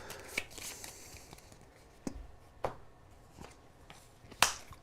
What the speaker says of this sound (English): I need to shuffle up their little starting deck here